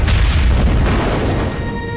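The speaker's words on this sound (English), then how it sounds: "he launches a shell, and the Syrian tank lights up" A tank struck by a shell explodes in a battle on the Golan Heights, heard as a loud, deep, rumbling boom that fills two seconds and stays steady without fading, with no voices over it.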